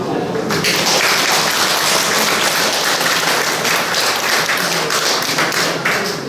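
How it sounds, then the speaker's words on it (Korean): Loud, dense applause from an audience at the opening of an invitational art exhibition, sustained for several seconds with a brief dip near the end. "시작하도록 하겠습니다. 박수"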